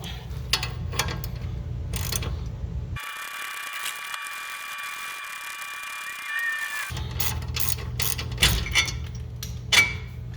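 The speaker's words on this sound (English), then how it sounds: "we'll undo the rest of it by the ratchet." A ratchet wrench undoes bolts on a G37 coilover during suspension work, giving bursts of quick clicking at the start and end, with a steady tonal whine filling a quieter middle stretch.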